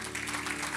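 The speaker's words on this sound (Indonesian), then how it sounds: "Kasih tepuk tangan untuk Tuhan." Congregation applause in a church service, a dense wash of many hands clapping with steady broadband crackle, moderately loud and continuous over a faint background hum.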